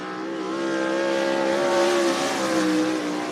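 A 360 sprint car races around the Cottage Grove Speedway dirt track, its engine a loud, steady, high-pitched roar that swells and shifts in pitch as it passes, continuous with no talk.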